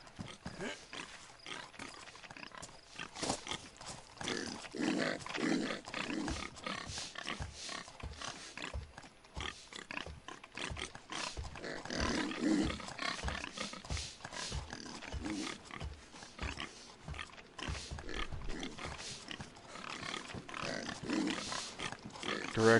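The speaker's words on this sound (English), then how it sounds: "These motherfuckers actually managed to trap some pigs in there?" Pigs trapped in an enclosure in a video game, grunting and squealing in a long irregular series of loud close bursts with short gaps, no talk over them.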